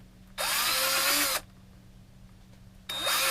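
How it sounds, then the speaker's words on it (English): A power drill bores into foam for cosplay hockey gear in two loud, steady whirring bursts, the first about a second long, the second starting near the end, over a quiet low hum. "we'll hit it with a little bit of drill action"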